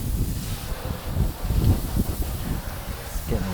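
Gusty wind buffets the microphone outdoors during wheel washing, with low, uneven rumbling bursts and a steady rush of air throughout.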